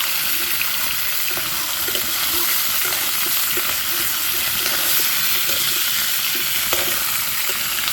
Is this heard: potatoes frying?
yes